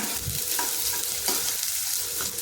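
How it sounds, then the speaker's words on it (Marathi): Finely chopped onion sautéing in a pan for masala Maggi noodles, a loud close sizzle with several quick stirring scrapes across a couple of seconds. "कांद्यालाही चांगल्या प्रकारे परतून घ्यायचं आहे"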